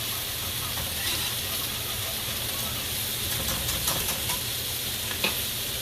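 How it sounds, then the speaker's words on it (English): Onions and peppers sizzling in butter in a pan: a continuous, even hiss of frying, close and steady, with faint occasional clinks and stirring touches and no talking. "I'm going to add about 2 tablespoons of butter. You're going to let that cook down some."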